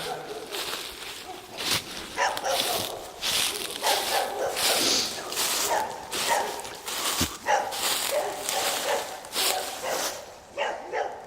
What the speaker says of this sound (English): You can hear the neighbor's dogs barking away.